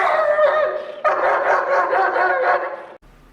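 A protective dog barks close and loud in two long, strained bursts, harsh and whiny, before cutting off sharply into near quiet.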